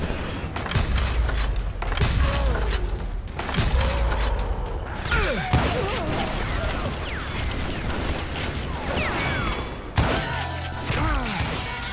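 Dense, chaotic gunfire in the western shooter Call of Juarez: Gunslinger, with a steady clatter of shots, impacts and mechanical clunks filling the whole stretch at a loud, close level.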